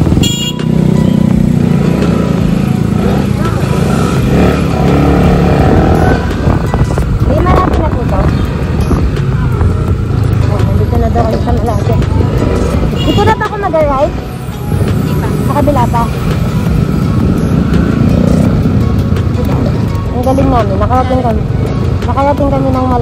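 A motorcycle carrying two riders hums steadily along a road on a trip, with wind and traffic noise, a brief horn toot, and people talking over the engine throughout.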